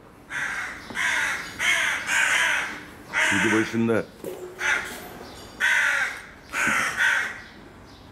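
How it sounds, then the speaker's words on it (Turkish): Several loud, harsh carrion crow caws in a row, close by, with a person speaking briefly between them, as cats attack a young crow. "bir karga saldırısı oldu."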